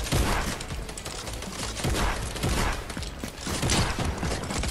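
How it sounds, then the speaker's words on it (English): A combat shotgun fires repeatedly in a video game amid dense, clattering battle noise, with several punchy blasts spaced roughly a second apart over a continuous mechanical din. "I have a combat shotgun."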